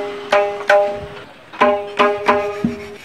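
Mridangam freshly tuned at a repair shop, struck in a loose rhythm of about nine sharp strokes, each with a bright ringing pitch and quick decay, close and clear with no talk.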